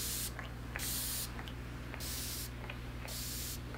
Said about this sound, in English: So I'm just gonna spray them both on my face.